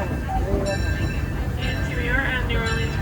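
The Disneyland railroad ride rumbles steadily with rolling wheels and clatter, overlaid by high squealing tones and a voice talking over the train noise.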